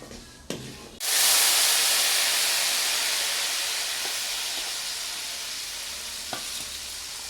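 Ground chili, garlic and tamarind paste hits hot oil with mustard seeds, bursting into a loud, close sizzle that slowly fades to a steady hiss, with a couple of faint stirring taps.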